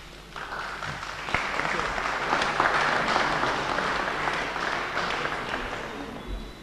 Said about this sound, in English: Should probably applaud him again.